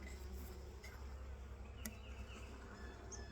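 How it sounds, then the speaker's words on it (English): Bees hum softly and continuously around a hive, a faint low buzz with occasional individual insects droning past. "Careful not to squash any of the bees."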